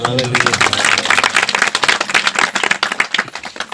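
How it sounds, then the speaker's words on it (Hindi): A church congregation claps along in a quick, steady rhythm while a voice carries on over it. "ताली बजा के।"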